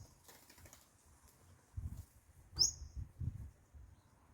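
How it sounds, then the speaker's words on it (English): Honeyeater birds calling, a single sharp chirp standing out over faint rustling and scattered low thumps, with quieter chatter in the background. "Bird. Honey eaters."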